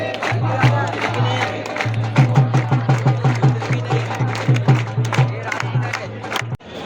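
A large, dense crowd roars at a Ganpati immersion on Girgaon Chowpatty beach in Mumbai, with rhythmic chanting and shouting pulsing over a steady drone, loud and close.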